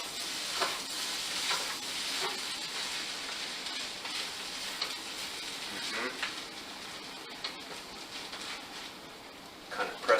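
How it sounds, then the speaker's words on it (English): Rice being stirred in a sizzling pan, with a steady frying hiss and occasional spoon scrapes close by, continuous over the whole stretch. "Now I've given it a good stir, mix it all up."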